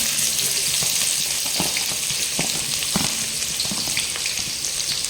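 Chicken and onion fry in hot oil in a pan, a steady close-up sizzle with scattered crackling pops throughout and no voices.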